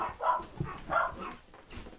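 Indoors at home during a livestream, a dog barks in about three short, loud bursts close by, with brief pauses between them.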